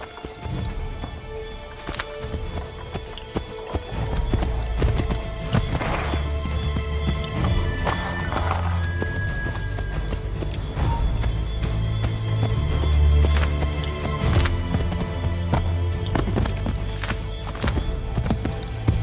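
Hooves of a horse in Assassin's Creed III clip-clop steadily at a gallop, joined by a whinny and game music, with a voice briefly heard.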